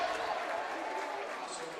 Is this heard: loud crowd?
yes